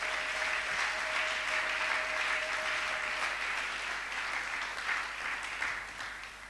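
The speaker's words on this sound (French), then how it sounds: "Est-ce qu'on peut acclamer le Seigneur?" A church congregation applauding to acclaim the Lord: dense, sustained clapping from many hands that holds steady and then tapers slightly at the end.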